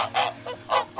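A goose honks loudly at close range, giving three or four quick nasal calls in about a second.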